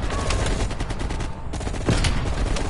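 Loud, rapid automatic gunfire from a found weapon in Call of Duty Cold War, sustained in dense bursts with only a brief pause midway.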